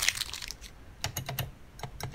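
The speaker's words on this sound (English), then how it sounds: "now we can remove the tape and give the keys a test." Keypad keys on a Beogram 4000 turntable being pressed repeatedly, giving a quick run of close, crisp clicks and taps in an irregular rhythm.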